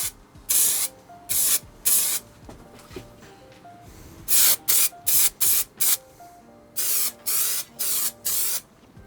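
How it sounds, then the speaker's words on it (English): An aerosol can of spray adhesive fires onto the inside wall of a camper van in a dozen or so short, sharp hissing bursts, some in quick runs and others spaced apart, close and loud. "spray some of the adhesive straight up directly onto the wall"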